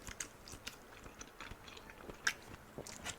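Cooked fish eggs being bitten and chewed close to the mic, a series of soft wet crunches and moist mouth clicks at an irregular pace, quiet with no talk.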